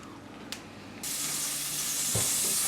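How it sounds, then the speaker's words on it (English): A quiet hiss jumps up after a second into a steady crackling sizzle, like butter hitting a hot pan, with a faint clink near the end. "So I have a knob of butter in my frying pan."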